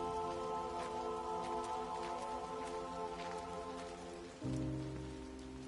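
Steady rain patters on a surface while the sun is out in the video game Everybody's Gone to the Rapture, with a low layered tone underneath that shifts partway through. No one speaks.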